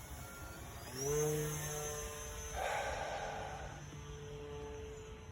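Electric motor whine of an E-flite Air Tractor 1.5m RC airplane at half throttle, a thin steady buzz rising in pitch as it passes, moderately distant and faint.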